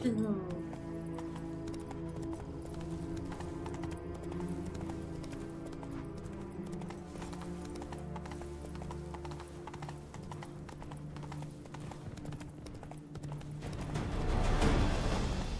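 Roach the horse gallops in The Witcher 3, a steady rapid clip-clop of hooves running throughout, close and continuous, with game music and a voice speaking over it.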